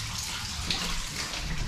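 Water gushes steadily from a cut feed pipe into a full bath in an abandoned, flooded care home, a constant splashing rush with no talk.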